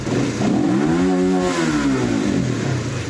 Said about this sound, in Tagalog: Pag umandar siya normal naman. Sumasagad din yung RPM.